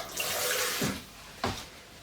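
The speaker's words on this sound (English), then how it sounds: "So I'm going to stick that on the stove with just a dribble of water." A dribble of water pours into a jam pan of strawberries with a soft, steady splashing wash, and two brief sloshes come through near the end, close and with no voices.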